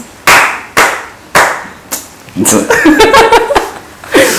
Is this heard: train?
no